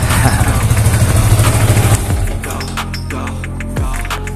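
A Yamaha Vixion motorcycle fires up on the first press of the starter and runs close by, a loud throbbing idle that eases slightly and settles into a steady, slightly clattery beat.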